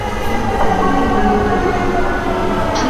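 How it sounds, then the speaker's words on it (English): Metro Gold Line light rail train at a station, a loud steady rumble and rolling hum of the railcar close by, with no talking. "We'll get on this train."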